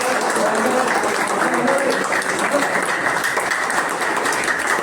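Steady, dense clapping from an audience at a farmers' organic training event, continuous for a few seconds with a murmur of voices beneath.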